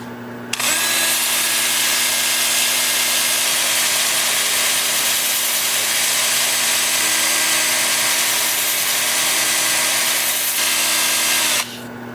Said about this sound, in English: and we'll do some sanding.